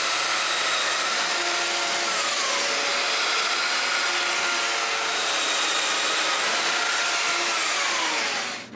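A Domino joiner cuts mortises in cedar for a patio table, its motor giving a loud, continuous high whine with a dust-extractor hiss, holding steady for several seconds before cutting off abruptly.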